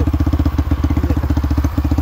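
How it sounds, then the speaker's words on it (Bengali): A Honda XL185 S motorcycle engine idles close by, with a steady, even run of low thumping pulses and a light mechanical clatter. "বাইকের সাউন্ডটা অনেক সুন্দর।"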